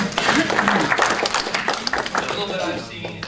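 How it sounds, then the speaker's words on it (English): An audience at a lunchtime zoo talk applauds loudly at first, then the clapping thins and fades while voices talk over it. "And you can give yourselves a big round of applause."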